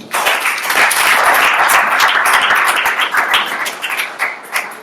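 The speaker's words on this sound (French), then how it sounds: "Merci à tous les trois, on peut les applaudir." Audience applause after a breakfast pitch presentation at an advertising event, a dense burst of many hands clapping close and loud, holding steady for several seconds before thinning slightly.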